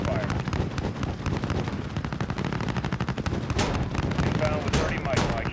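A helicopter gun run in Call of Duty: a dense, rapid stream of heavy gunfire hammers on without letup, loud and close, with faint voices underneath.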